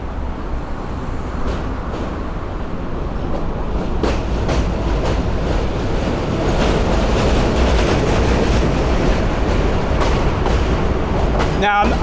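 A New York N subway train rumbles past on the Queensboro Bridge, its steady roar and wheel clatter running close by and overhead for the whole stretch, with a sharp metallic screech toward the end.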